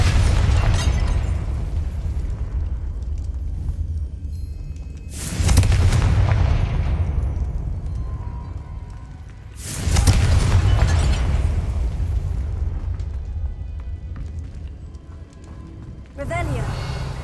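Fiery blast from the Confringo spell in Hogwarts Legacy, with two heavy booming bursts spaced a few seconds apart over a low rumbling backdrop and a smaller pop near the end.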